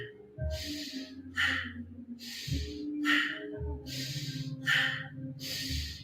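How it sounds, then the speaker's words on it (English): Deep, audible breaths during a Kundalini yoga session: about seven alternating inhales and exhales, each a loud, close, airy rush lasting under a second, separated by brief pauses and paced like guided movement. "Really deep breathing. You should be able to hear your breath"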